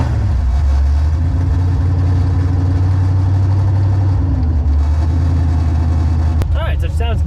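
A race car engine runs at a loud, deep, lumpy idle close by, throbbing steadily throughout, with a brief sharp burst of higher sound near the end and a voice talking over it.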